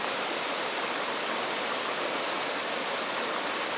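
A waterfall in Maine pours in a steady, dense hiss and rush, unbroken and close, with no other sounds over it.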